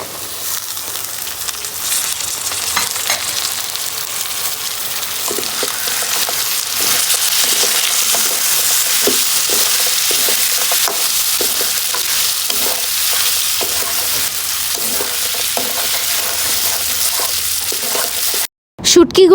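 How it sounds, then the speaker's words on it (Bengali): Dried bashpata fish and jackfruit seeds fry in a pan, a constant loud sizzle broken by repeated scraping stirs. The hiss holds steady, then drops out briefly near the end. "শুটকিগুলো ভালোভাবে ভেজে নিয়েছি। এই পর্যায়ে আমি কাঁঠাল বিচিগুলো দিয়ে দিব।"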